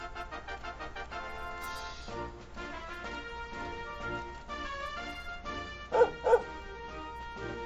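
A dog in a video game barks and yips several times in a short run of calls, with whimpering mixed in, over music and ambient background; two louder barks stand out near the end.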